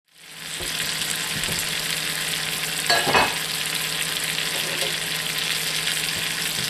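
Shrimp sizzle steadily in a hot pan, a continuous broadband frying hiss with a brief louder crackle and stir partway through, close and alone without talk.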